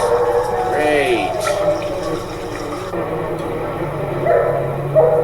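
Dogs barking in an animated film scene set in a Paris courtyard: a few sharp barks and yips early on, mixed with music, splashing and voices.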